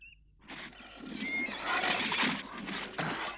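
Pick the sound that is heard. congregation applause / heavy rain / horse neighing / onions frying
horse neighing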